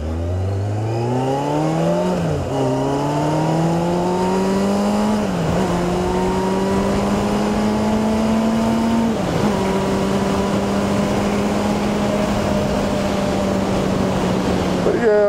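A car accelerates hard from a gas station, its engine climbing steadily through three gear shifts, loud and close throughout.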